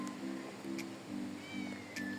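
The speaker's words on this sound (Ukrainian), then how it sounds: "кіт який скричить" A cat found at a rural village well meows repeatedly, several drawn-out loud cries close by with short pauses between them, no talking.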